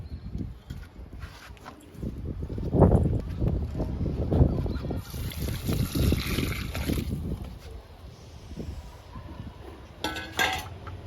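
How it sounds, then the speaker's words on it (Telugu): Water poured from a vessel onto a young guava plant in the soil, a splashing, gurgling pour lasting several seconds, close and moderately loud, with light clinks and rustles before and after. "ఈ వాటర్ కూడా ఇచ్చేద్దామండి"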